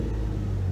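Infiniti Q50 fitted with test pipes, engine giving a short, close, deep rumble with a steady low drone as it is revved lightly.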